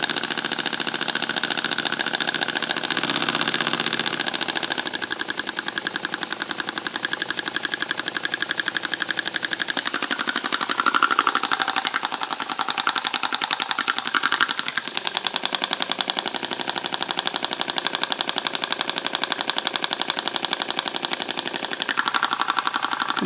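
A small sand-cast model steam engine with a brass big end runs continuously, driving a propeller with a rapid, shaking mechanical chatter that stays loud and steady throughout.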